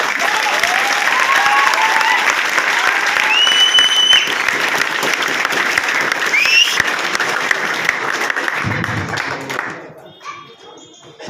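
Loud, sustained applause from an audience at a Sunday closing event, dense clapping with a few voices and shouts over it, fading out near the end.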